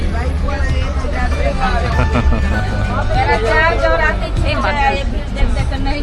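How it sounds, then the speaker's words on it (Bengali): Crowd chatter fills a packed Kumbh Mela train, with a dense, loud babble of many voices and the rumble of the moving train underneath. "প্রচন্ড ভিড়।"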